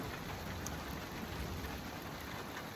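Rain and hail falling on an outdoor patio umbrella on a freezing day in the Colorado mountains, a dense, steady patter and hiss that stays even throughout, with no voices.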